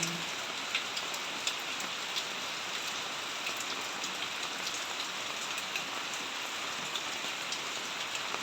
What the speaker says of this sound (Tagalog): Lumalakas na naman ang ulan sa bubong ng bahay